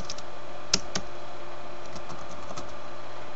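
A few sparse, crisp keystrokes on a computer keyboard as a username and password are typed in for a Twitter login, close and quiet in an otherwise still room.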